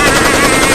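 A cartoon hunter fires his gun at a rhino, a loud, dense burst of rapid gunfire filling the whole brief moment with no voices.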